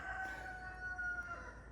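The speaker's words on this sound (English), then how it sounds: "Silly chicken." A rooster crows once in a long, drawn-out call from a short distance, heard outdoors at a home building site with no talking.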